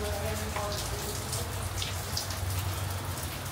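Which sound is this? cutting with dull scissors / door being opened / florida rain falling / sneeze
florida rain falling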